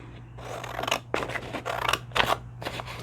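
Paper being cut with scissors in several close, crisp snipping strokes, one after another with short gaps, over a steady low electrical hum and no talking.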